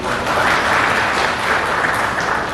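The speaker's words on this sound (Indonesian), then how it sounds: "Tepuk tangan buat para." Audience applause at an Islamic halalbihalal gathering, a dense steady wash of clapping filling the whole stretch, close and loud, with no talk over it.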